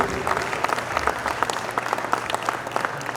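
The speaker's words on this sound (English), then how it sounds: "let's have a big round of applause for Asian American Republican Coalition" An audience at a launch meet-and-greet event claps together, a lively roomful of applause with distinct individual hand claps in a steady, close patter.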